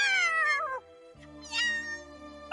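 A cartoon cat gives two loud, close meows: a long one that falls in pitch, then a short pause, then a second, higher meow.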